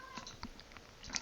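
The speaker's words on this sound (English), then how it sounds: "excuse me for the cat meowing in the background" A house cat meows faintly in the background of a quiet room, with a few short, soft calls spread across the moment.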